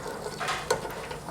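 Oil sizzles steadily with a soft crackling hiss as black pudding Scotch eggs deep-fry in a basket, broken by a brief metallic clink partway through.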